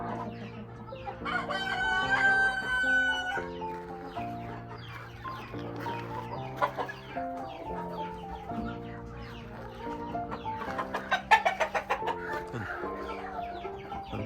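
A rooster crows and chickens cluck around a countryside barndominium on five acres in Laos, with layered calls rising over a steady mix of farmyard sound through the stretch.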